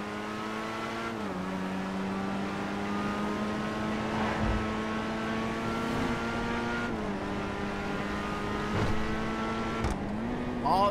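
Video game car engine in a chase, steady harmonic drone that drops in pitch at each gear shift, running continuously at moderate loudness with no talk over it.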